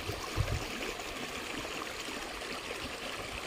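A shallow, wide, clear river flows through shaded woodland with a steady, even rush of water. The gentle wash continues throughout, with no talking.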